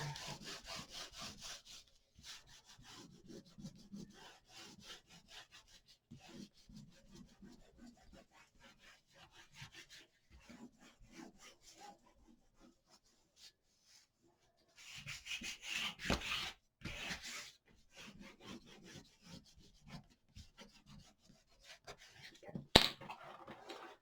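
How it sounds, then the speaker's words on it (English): Paper being rubbed by hand to press down a glued tab on a Halloween mini pop-up album, a soft repeated scratchy friction in bursts, fairly close, with a short pause midway and one sharp tap near the end. "Let's give all this a little rub here."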